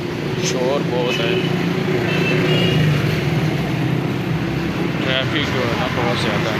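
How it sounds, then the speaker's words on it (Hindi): Heavy road traffic on a busy street, a dense continuous roar of engines with a few brief higher tonal sounds like horns rising above it, and faint voices in the background. "ट्रैफिक जो है ना बहुत ज़्यादा है।"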